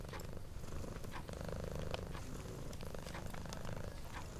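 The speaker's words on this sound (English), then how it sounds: "the sound of your purring companion" A cat purrs steadily and close by, a continuous low rumbling throb with faint higher rustles scattered over it and no voices.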